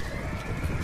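A horse whinnies briefly in the video game A Clash of Kings, a short neigh over a noisy, busy background.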